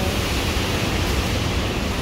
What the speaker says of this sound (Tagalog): Ganyan siya ka ang impact ng hangin dito.